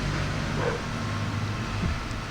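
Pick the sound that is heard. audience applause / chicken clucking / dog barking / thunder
dog barking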